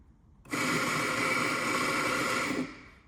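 A Eureka Mignon coffee grinder grinds a few beans in a short, loud burst of steady motor whine and burr crunching, starting abruptly and cutting off after about two seconds.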